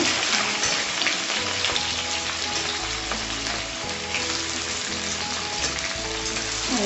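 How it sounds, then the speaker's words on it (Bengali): Onion fries in a pan for Kolkata-style egg biryani, a continuous close sizzle with faint stirring over a low steady hum. "এখন আমি এর মধ্যে পেঁয়াজ টমাটার পেঁয়াজ দিয়ে"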